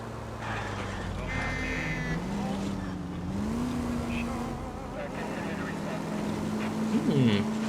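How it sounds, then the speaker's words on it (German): A car engine in the video game L.A. Noire pulls hard uphill, its drone rising and falling in pitch as it revs and shifts, with tire squeals near the end. "Zieht ganz schön gut am Berg das Auto."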